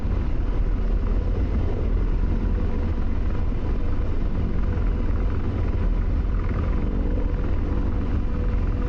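An AH-64 Apache helicopter in the DCS flight simulator drones with a steady, dense rotor and turbine rumble, constant and unbroken from the cockpit, with no voices over it.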